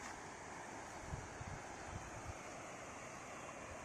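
A river flows near rice fields in a village in northern Sukabumi, a continuous broad wash of water mixed with wind noise, with a few soft low thumps partway through and no one talking.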